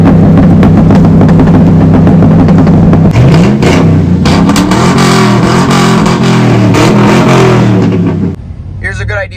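Exhaust drone from a 2018 Chevrolet Silverado with a muffler delete is heard inside the cab with the windows up at about 45 mph: a loud steady rumble that swells as the engine revs, then drops off near the end.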